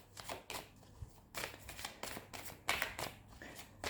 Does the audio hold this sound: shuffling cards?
yes